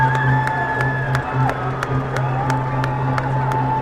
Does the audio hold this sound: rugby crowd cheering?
yes